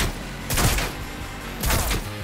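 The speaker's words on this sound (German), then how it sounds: "Mit so einem Dreischuss-Sturmgewehr" Two short bursts of assault rifle fire from a three-round burst weapon in Cyberpunk 2077, each a tight cluster of sharp, loud shots, separated by about a second of quieter background.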